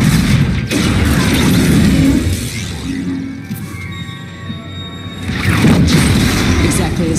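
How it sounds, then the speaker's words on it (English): A bomb explodes during a Star Wars Battlefront 2 campaign mission, a loud, rumbling blast with crashing debris that swells, eases, then surges again, with talk over parts of it. "What happens when that bomb goes off?"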